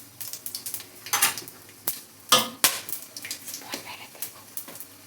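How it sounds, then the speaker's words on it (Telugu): Whole spices (bay leaf, shahjeera, cloves and cardamom) frying in hot oil in a pan: steady crackling sizzle with sharp pops and occasional utensil clinks, close and clear. "బిర్యానీ ఆకు యాడ్ చేసుకుందాం. సాజీరా, లవంగా, ఇలాచీ. అవి బాగా ఫ్రై అవ్వాలి."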